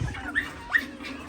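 A dog waiting to be fed gives two short, fairly distant yelps or whines about a third of a second apart, with a quiet outdoor background between them.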